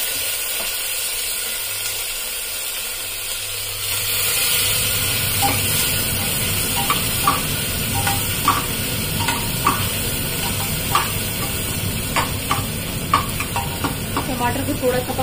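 Green chili, ginger and tomato dropped into a hot pan, a quiet hum giving way to a steady sizzle with clicking stirring scrapes and taps continuing to the end; no clear talk.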